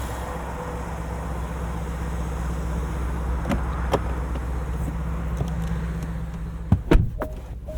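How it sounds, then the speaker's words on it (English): A 2024 Porsche Cayenne Turbo E-Hybrid Coupe with a 4-liter twin-turbo V8 idles with a low steady rumble heard from inside the cabin, joined late by a few clicks and a thump of interior controls. "Absolutely love this 4-liter twin-turbo V8. It sounds great"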